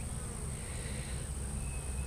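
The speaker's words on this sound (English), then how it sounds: "it's full of bees" Dense, steady buzzing of many honeybees around a hive in a bee yard fills the air, constant and close with no pauses.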